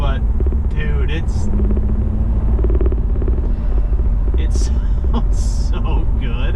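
A BMW F30 fitted with an MST Performance intake rumbles low and steady while driving, the engine sound heard from inside the car beneath a person talking.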